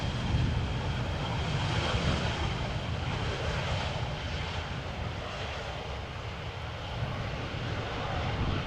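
An EasyJet airliner arriving at Amsterdam Schiphol Airport in a crosswind gives a steady, loud, roaring engine drone that stays constant throughout, with no talking.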